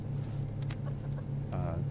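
Soft chicken clucks in the survival game Subsistence over a steady low hum, a few brief calls near the start and a clearer one near the end.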